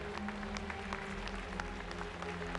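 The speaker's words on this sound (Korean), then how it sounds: "박수를 부탁드립니다." Crowd applause at a national sports festival opening ceremony in a stadium, distant and fairly faint clapping spread across the space over a low steady hum.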